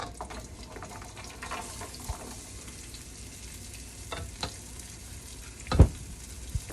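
Onion frying in a pan for a meatless greens and cabbage dish, a steady low sizzle with occasional stirring scrapes and one sharper clatter near the end, no voices.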